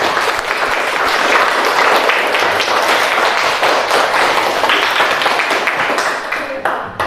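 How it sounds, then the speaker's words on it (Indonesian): Sustained applause from a classroom of students clapping their hands, loud and dense throughout, with the clapping thinning out near the end. "Sekali lagi kita berikan tepuk tangan."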